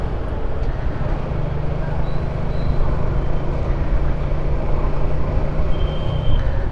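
A Suzuki motorcycle engine drones low and steady, mixed with surrounding road traffic and a faint voice, with a few brief higher tones drifting through.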